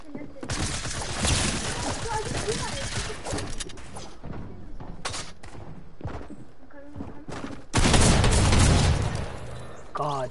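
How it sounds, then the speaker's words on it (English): Rapid, repeated gunfire from a Fortnite-style combat game spams in dense bursts across the clip, mixed with thuds and impacts, ending in a loud, sustained volley; a voice talks over parts of it. "God, the spam of this gun."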